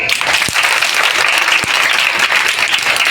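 Sustained loud applause from an audience at a Girls' Day event with a women's police station officer, dense even clapping filling the whole stretch with a couple of sharp thumps.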